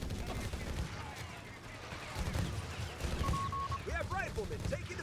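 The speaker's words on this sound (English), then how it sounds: "We have double MG there from Mr. Blautier." Machine gun fire from a Company of Heroes 3 tournament match, with a double MG position, rattling in distant bursts beneath a steady wash of battle noise as game effects chirp over the top later on.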